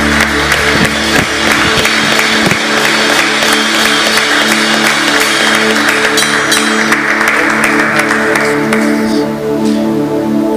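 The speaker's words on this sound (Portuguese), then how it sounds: "Vamos dar uma salva de palmas ao Senhor." A church congregation applauds together, with loud, sustained clapping that fills the whole stretch, a bright wash of hand claps with a faint murmur beneath and a slight easing near the end.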